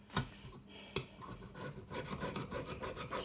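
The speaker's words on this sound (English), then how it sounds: "try to scrape some of this paint off." Paint being scraped off a van's hot metal surface: a steady rasping, rubbing scrape close up, with two sharp clicks near the start and then continuous uneven strokes, with no talking.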